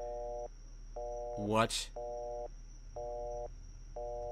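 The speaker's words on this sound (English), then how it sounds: "I'll just hit the redial button on my phone." A phone redial in the video game Turnabout Storm meets a busy signal: an even series of beeps pulsing on and off at a steady rhythm, briefly interrupted by a short exclamation from a voice.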